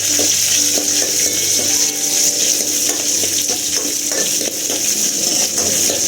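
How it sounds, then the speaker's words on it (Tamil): Garlic frying in hot oil in a pan for pepper kulambu while being stirred, a loud steady sizzle with scraping spoon strokes throughout, close and with no talking. "பூண்டை போட்டு கலரி விடணும்"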